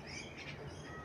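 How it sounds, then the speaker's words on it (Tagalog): A bird chirps faintly outdoors in Kingswood, western Sydney, with a few quick high calls heard briefly and quietly against the open air. "Mabait ng ibon dito."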